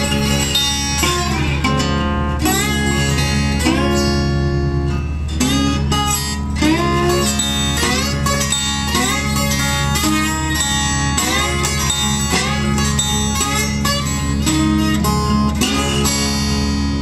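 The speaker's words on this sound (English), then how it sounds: "I'm going to play the second and fourth strings as well with the slide" Slide guitar gliding across the second and fourth strings at once, loud and sustained, with smooth pitch bends sliding up and down the neck.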